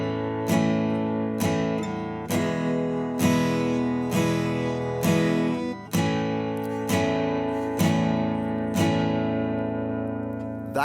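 Beginner acoustic guitar strumming simple chords with regular downstrokes, changing chord roughly every couple of seconds; steady, clear and close, with no voice.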